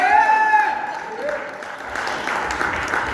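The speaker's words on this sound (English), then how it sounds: "That's when you clap a little and go, woohoo!" Audience applause and cheering at a sports program's graduation ceremony, starting with a high whoop and settling into broad, sustained clapping from the crowd.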